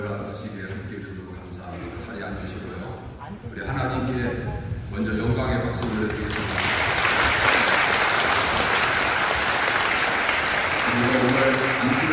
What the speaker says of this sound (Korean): 충만하시기를 기원하는 마음으로 격려하는 박수로 함께